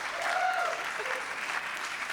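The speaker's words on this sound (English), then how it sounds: "Yes, applaud." Brief applause from a studio audience after a song, a soft, even patter of clapping that lasts about two seconds, with a faint voice over it.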